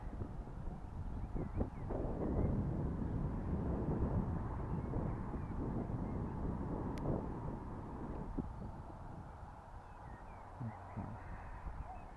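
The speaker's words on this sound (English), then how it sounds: "That wind is picking up as well." Wind blows outdoors at a glider launch site, a steady low rumbling buffet against the microphone that holds for most of the time and eases slightly toward the end.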